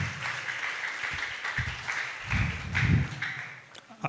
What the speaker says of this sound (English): Can we give the big round of applause to Prof.